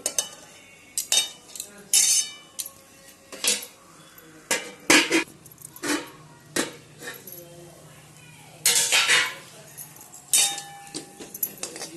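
Metal lid set over a pot of rice rava upma, a series of sharp clanks and clinks spaced across the stretch, some loud and close, between quieter pauses.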